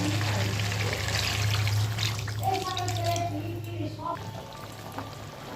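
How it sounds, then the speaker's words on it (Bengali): Water poured into a pan of paneer curry during cooking, a soft trickling pour under a low background hum, with a voice speaking faintly. "এবার জল দিয়ে দেবো আমি"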